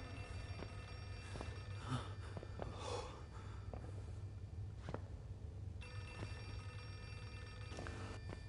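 Telephone ringing inside the Outlast 2 horror video game, a repeating bell-like ring in short bursts over a low ambient drone, with faint breathing and snorts mixed in.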